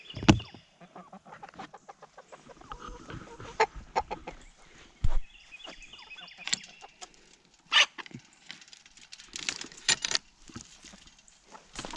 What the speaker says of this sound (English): Now we just have the chickens.